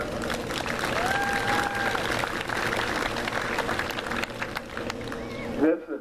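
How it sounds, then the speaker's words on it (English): Applause from the stands for young showmen at a heifer show, a spread-out clapping crowd with a voice over a loudspeaker and arena noise, fading near the end. "we need to give these young showmen a round of applause."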